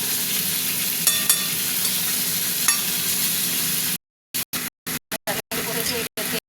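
Ground masala and salt frying in a pan for a mixed-vegetable curry: a steady close sizzle with a couple of stirring clinks, then cutting into choppy bursts separated by abrupt silences.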